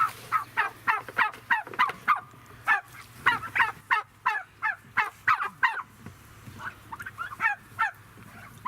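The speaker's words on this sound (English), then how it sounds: "the grandkids were fascinated with the turkeys more than anything else" Turkeys gobble and honk in quick repeated bursts, close and fairly loud, a rapid rhythmic series of calls running throughout with brief pauses.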